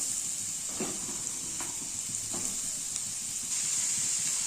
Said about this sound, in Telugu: ఇప్పుడు ఇవి ఫ్రై అయ్యాక కొంచెం బీట్రూట్ పీసెస్ వేసుకొని ఫ్రై చేసుకోవాలి.